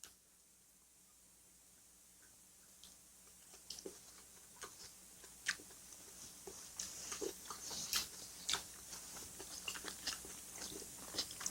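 Someone eats raw salmon and rockfish sashimi up close, with soft wet chewing and scattered crisp crunchy bites that grow more frequent over time.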